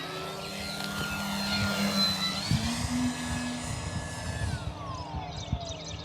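An E-flite Commander mPd 1.4 m electric RC airplane flies a touch and go, its propeller whine rising and falling in pitch as it passes nearby, steady and fairly loud throughout.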